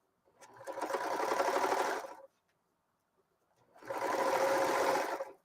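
A serger sewing machine cuts and stitches fabric in two steady bursts of fast mechanical whirring, each about two seconds long, separated by a short pause, close and without talk.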